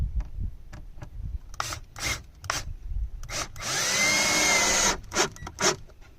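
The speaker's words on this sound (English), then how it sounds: "I'm just going to put my screw there and drill it in place" A power drill drives a screw into a 2x4 while a swarm trap is hung, giving a sustained whining buzz in the middle between scattered thumps and handling knocks, close by with no talking.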